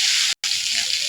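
Green chili paste hits hot oil with a bright, hissing sizzle, close and steady, broken by a brief silent gap before the frying resumes.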